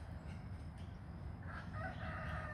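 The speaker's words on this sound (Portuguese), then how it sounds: "Aqui é os gansos Toulouse." Toulouse geese, large birds of about 15 kg each, call on a farm. A couple of drawn-out honking calls rise late in the clip over a steady outdoor background rumble.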